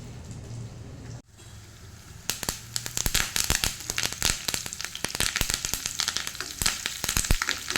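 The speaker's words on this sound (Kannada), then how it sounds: "ಇವಾಗ ಸ್ವಲ್ಪ ಕರಿಬೇವನ್ನು ಹಾಕ್ತೇನೆ" Curry leaves dropped into hot oil with mustard seeds and garlic for a tempering: after a quiet second, a sharp burst of loud, dense spitting and crackling that keeps popping close up to the end, with no voices.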